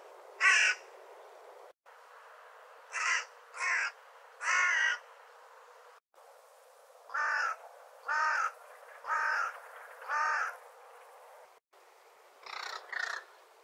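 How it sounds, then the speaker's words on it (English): Hooded crow calling in bursts, each a short run of two to four harsh, fairly high caws repeated at short intervals, clear and alone against quiet background. "The hooded crow call is higher pitched and longer than raven, and slightly more musical than rook."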